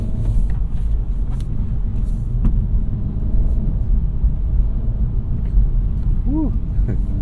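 Acura Integra with a manual gearbox driving through a roundabout at night, a steady low engine and road rumble that holds level throughout, with a short rising whine near the end.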